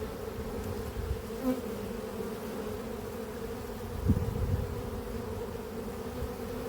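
Honey bees flying into a hive at an apiary, a steady, close droning buzz that holds throughout with small swells as individual bees pass near.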